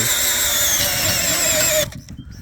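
A small cordless screwdriver drives a large wood drill bit into wood, a loud steady whirring grind that holds for nearly two seconds before cutting off abruptly, leaving only faint residual noise.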